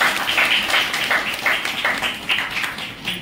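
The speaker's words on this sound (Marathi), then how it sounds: "एकदा आपण सर्वांनी त्यांच्यासाठी जोरदार टाळ्या वाजवायच्या" An audience at a women's association gathering for a Buddhist scripture reading claps steadily, a moderately loud, continuous round of applause from a small crowd with faint voices underneath.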